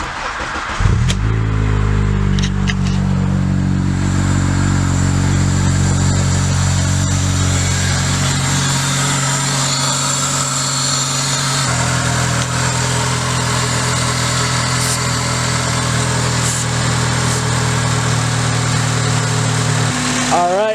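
A 2005 Honda Accord fitted with a short ram intake idles steadily up close beside a highway, its engine droning evenly with brief rises in revs; no voices are heard.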